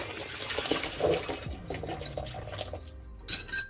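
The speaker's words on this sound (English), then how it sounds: "now we're going to add our 2 cups of evaporated milk" Evaporated milk pours steadily into a blender jar for a cake flan, a continuous liquid splash and gurgle at close range with no talk.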